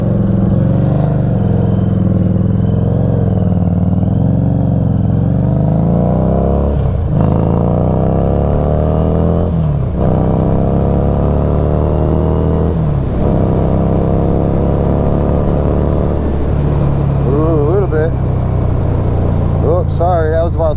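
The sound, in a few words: motorcycle engine idling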